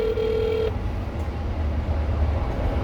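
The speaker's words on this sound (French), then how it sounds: "On répond au téléphone." A telephone on an English street rings with a steady electronic tone for under a second, then stops, leaving loud outdoor background rumble.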